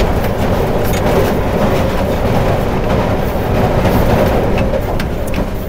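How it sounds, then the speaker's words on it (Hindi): The Attock Safari train rumbles into Fakirabad station with a loud, continuous roar of rolling wagons and faint rhythmic clatter, heard up close from aboard. "फकीराबाद स्टेशन पे पहुंची है ट्रेन"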